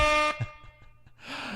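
A loud air horn sound effect blares at the start with a steady harmonic tone, cuts off after a third of a second, then a softer breathy burst rises near the end.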